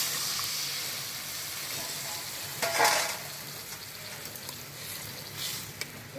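Spice paste sautés in a pan for rohu fish curry, giving a steady low sizzle with a louder burst of hissing and scraping stirs partway through.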